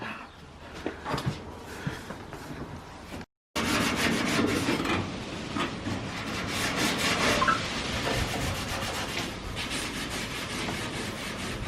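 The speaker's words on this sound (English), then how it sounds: "You're still sanding?" Continuous scratchy sanding strokes close by, with a brief silent gap before the rasping resumes more intensely and keeps going.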